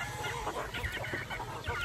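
A rooster clucks repeatedly in short bursts, fairly close, over a steady outdoor background hum.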